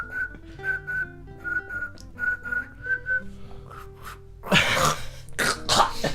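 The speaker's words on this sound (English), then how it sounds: "you gotta have enough liquid to gargle, like, and then you keep it there, and then you whistle" A person whistles a short wavering tune while gargling a mouthful of liquid, the bubbling pitch rising and falling close up, then breaks into a burst of spluttering, coughing and throat clearing.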